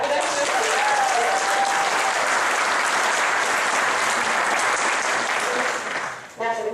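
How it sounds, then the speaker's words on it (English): Audience at a political gathering applauding people running for office, loud sustained clapping filling the room, tapering off near the end. "How many of you here are running for office? Awesome. Clap for them too."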